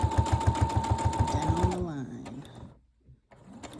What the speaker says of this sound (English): I literally am just sewing down the